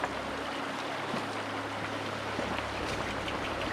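Water flowing steadily in a very small trout stream, a tiny forest tributary, giving a continuous close babbling wash with low rumble, no talking.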